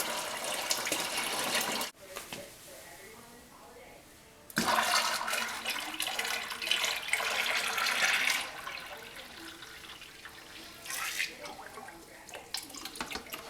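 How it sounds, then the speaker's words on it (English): Water poured into a batch of prickly pear mead with honey, a steady splashing pour that stops briefly and resumes, fairly close and loud, with no talking. "now we're just going to add a little bit of water to bring it up to the level that we want"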